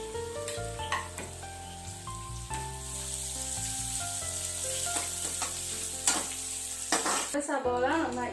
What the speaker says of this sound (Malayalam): ചെറിയ ഉള്ളി ഇട്ടിട്ട് നമുക്കൊന്ന് മൂപ്പാകുന്നത് വരെ ഒന്നും കൂടെ വഴറ്റാം